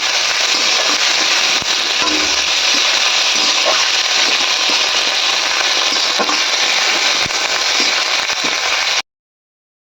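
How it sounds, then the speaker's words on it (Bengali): Chopped tomatoes fry with spices in a pan for dal tadka, making a loud, continuous crackling sizzle with small pops throughout, which cuts off abruptly after about nine seconds. "টমাটোগুলো মা একসাথে ভেজে নেবে"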